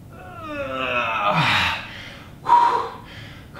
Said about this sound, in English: Breathing hard.